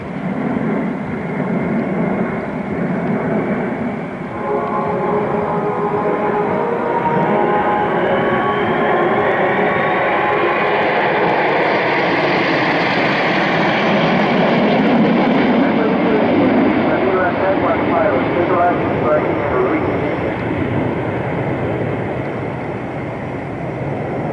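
Jets of the French aerobatic team fly in formation at an evening airshow, their broad continuous roar swelling and holding loud throughout, with a voice speaking over it.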